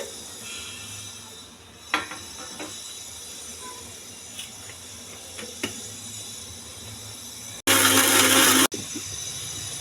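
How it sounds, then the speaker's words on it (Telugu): A kitchen mixer grinder blending coconut, green chili and tomato into a paste, heard as a single loud, steady whirring burst of about one second, after quieter clinks and handling noises. "కొబ్బరి, పచ్చిమిర్చి, టమోటా ఇవన్నీ మిక్సీ జార్లో వేసుకుని మిక్సీ వేసుకోవాలండి"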